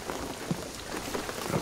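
Rain falls steadily in the video game Shadow of the Tomb Raider, a soft, even patter of drops hitting surfaces, faint and continuous with no voices over it.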